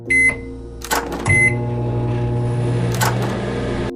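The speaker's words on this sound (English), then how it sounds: "he heard the microwave buttons being pressed" Several short electronic beeps from a microwave oven keypad, spaced unevenly over a steady low appliance hum.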